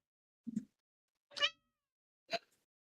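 A pet cat meows three separate times, close and clear against silence: a short low call, then a louder higher meow, then a final brief one, each about a second apart.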